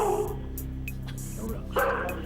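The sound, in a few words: dog barking behind a door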